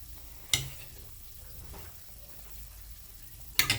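Pinuneg, a Benguet blood sausage, dropped into a pot of simmering soup with pork and chicken, two sharp splashing clatters set apart by a few seconds over a low, soft bubbling background.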